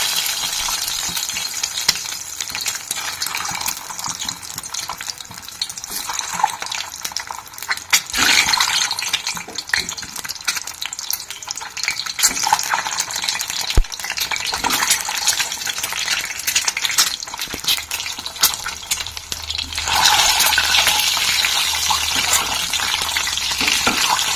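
Eggs fry in hot oil in a pan for a home-made egg curry. A continuous crackling sizzle is broken by scraping stirs and occasional taps, and it grows louder and fuller near the end. No one speaks.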